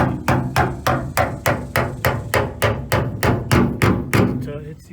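A hammer drives the fuel sending unit lock ring back into place on a Ford F100 fuel tank, striking about a dozen sharp, evenly spaced metallic blows, loud and close.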